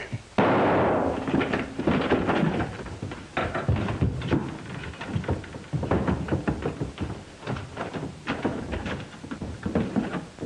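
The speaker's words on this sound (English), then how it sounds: "Who's doing all the shooting?" Gunshots in a 1945 western: an initial sharp crack is followed by a scattered string of loud pops and bangs, irregularly spaced and fairly close, continuing across the clip with no voices.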